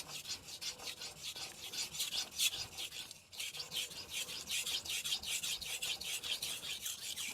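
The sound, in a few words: knife sharpened on 1000 grit whetstone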